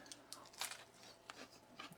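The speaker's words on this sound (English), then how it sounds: "Take another bite." Quiet close-up chewing of a leftover turkey sandwich topped with crunchy fried onions, a rapid series of soft crunches and bites with no talking.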